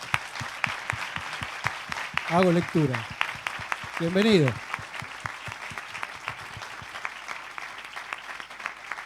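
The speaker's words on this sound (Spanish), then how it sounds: "a quien le vamos a brindar un fuerte aplauso," A book fair audience applauds to welcome an author on stage, steady clapping running throughout while someone speaks briefly over it near the start and middle.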